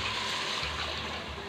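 Water is poured into a cooking pot for beef biryani after the onions, ginger-garlic and beef have gone in, making a continuous close rushing splash with no speech.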